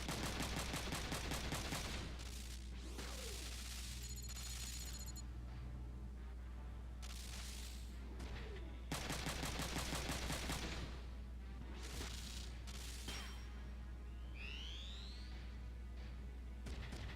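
In the tactical mech game Front Mission 3, several bursts of rapid gunfire rattle out at moderate volume, separated by pauses and interface tones, over a steady low drone.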